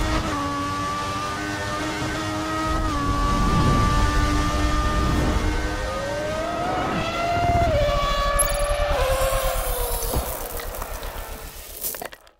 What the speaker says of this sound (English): We're basically going to be running the Indy 500 in a Honda-powered Andretti car